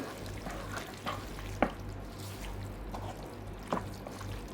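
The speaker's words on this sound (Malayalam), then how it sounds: "ഇനി നമ്മുടെ ഉപ്പ് വരട്ടിയ മാങ്ങ ആ ഒരു ചാറ് ഉൾപ്പെടെ അങ്ങോട്ട് ഇട്ട് കൊടുക്കുകയാണ് ഇതെല്ലാം കൂടെ നമുക്കൊന്ന് ഇളക്കി യോജിപ്പിക്കാം" Salted mango pieces and their juice tipped into a mango pickle mix and stirred, giving soft wet pouring and scraping with a couple of sharper clinks over low steady background hum.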